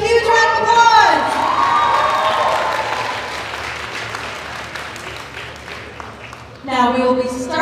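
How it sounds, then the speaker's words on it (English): Applause and cheering from a pageant audience honouring the top five contestants, loud clapping with shouts and children's voices that slowly fades, then an announcer's voice. "Let's give them a huge round of applause."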